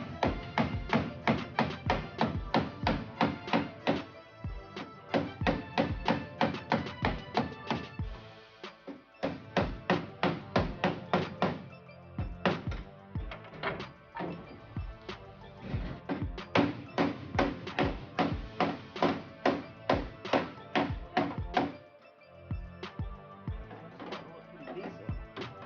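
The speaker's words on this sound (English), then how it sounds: "Trying to hammer all that out." Repeated sharp metallic hammer blows on a Ford Mustang's sheet-metal body panel in fast bursts with brief pauses, loud and close, no talking.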